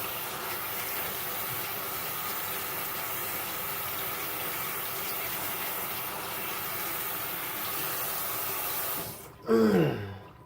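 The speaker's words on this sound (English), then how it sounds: "And rinse it again." Cherokee heirloom tomatoes are rinsed under a steady stream of running water, a constant close hiss that carries on evenly before a brief louder splash and knock near the end.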